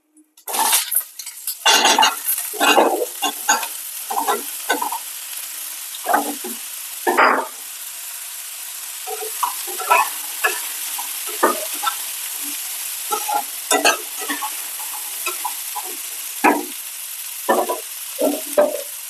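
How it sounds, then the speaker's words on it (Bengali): Cut potato and eggplant frying in hot oil in a home kitchen, a continuous sizzle broken by repeated scraping and stirring clinks of a utensil against the pan, close and clear with no talking. "তো গরম হয়ে গেছে, এবারে কেটে রাখা আলু আর বেগুনটা দিয়ে দেব"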